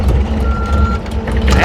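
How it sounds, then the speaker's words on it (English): A truck backs up with its reversing alarm beeping steadily, the engine rumbling underneath, heard close and loud outdoors by a well site. "I'm gonna move this truck"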